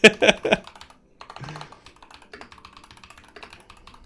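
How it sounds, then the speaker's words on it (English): A computer keyboard clacks with a quick burst of loud keystrokes, then lighter scattered typing continues faintly in the background. "Can you cut out all like the keyboard clacking?"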